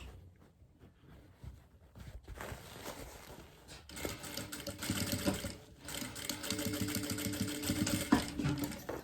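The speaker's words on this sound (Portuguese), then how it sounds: "vou passar um retrocesso, uma costura aqui, fechando essa caixinha" A sewing machine stitches through a milk carton box to close it: a faint, quiet start, then a steady close mechanical whir with rapid needle chatter, briefly pausing before running again, no voices.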